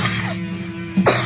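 A single throat-clearing cough, short and close, over a steady low background hum.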